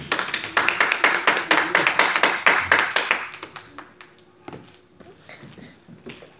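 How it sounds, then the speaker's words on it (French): Church congregation applauding, a burst of loud rhythmic clapping that thins out into scattered claps and fades after a few seconds. "On acclame le Seigneur."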